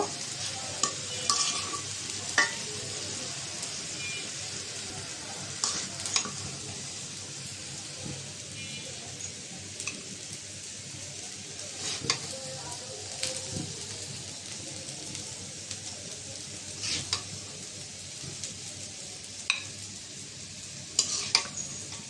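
A vegetable fry of sweet pumpkin, snake gourd and potato crackles steadily in a pan while a spatula scrapes and stirs at intervals, close by with no talking.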